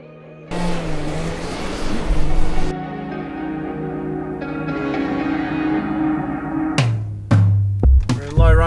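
A 2023 Ford Ranger drives in 4-wheel drive low range on a gravel road, its engine droning steadily and rising in pitch, followed by loud thumps and bumps near the end.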